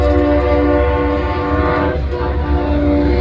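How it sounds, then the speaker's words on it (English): A loud, sustained train horn blares close by over the steady rumble of a passing train, at a car meet in Jefferson City, Missouri. "There goes the train."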